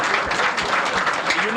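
Dense audience applause fills the room steadily, with a voice speaking over the clapping throughout.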